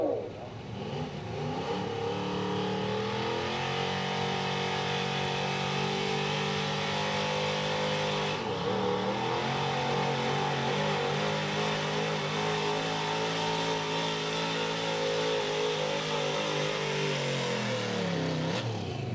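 A pulling truck revs hard at a truck and tractor pull, its engine roaring loud and close for nearly twenty seconds, the pitch climbing and dipping as it strains against the sled.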